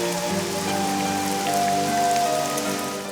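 Steady rain falls on a surface, a dense continuous patter of drops that stays even and fairly close for the whole stretch, with no voices.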